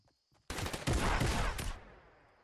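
A sudden burst of Fortnite weapon fire at Paradise Palms, a rapid string of loud shots for about a second that then fades into a short tail, with near silence before it.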